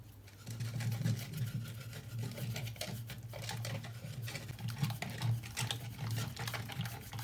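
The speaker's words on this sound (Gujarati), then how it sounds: "તો આપણે આમાં પોર કરીને વલોણાની માફક આપણે ફેરવવાનું શરૂ કરી દઈશું." Yogurt is churned by hand with a wooden churner to make mango lassi at home. It makes a continuous low whirring and sloshing with fast, uneven patter, steady and fairly close.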